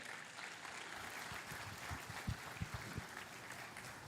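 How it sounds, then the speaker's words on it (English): A conference audience applauds a speaker on AI-driven software engineering, a soft continuous patter of many hands with a few sharper individual claps standing out near the middle, heard fairly quietly. "So will you give him your biggest round of applause, everybody?"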